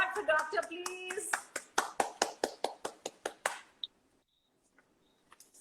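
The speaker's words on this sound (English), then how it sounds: "So can we just applaud for Doctor, please?" A small group claps in a steady rhythm of a dozen or so distinct, fairly close claps after a brief voice, then trails off into near silence with a couple of faint stray taps.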